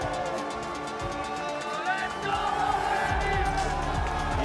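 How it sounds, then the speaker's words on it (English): Swiss spectators at a gravity sports event in Valais, on their feet, cheering and whooping as a broad distant roar that swells toward the end, with commentary voices over the crowd. "This Swiss crowd on their feet."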